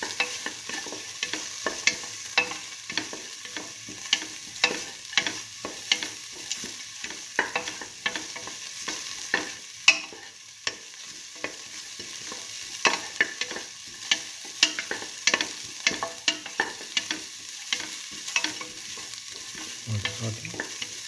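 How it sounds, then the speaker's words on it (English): Split mung bean and tomato stew is sautéed and stirred in a pan, with rapid repeated spoon scrapes and clinks over a low steady sizzle, close and fairly quiet, with no talking. "Saute and mix thoroughly."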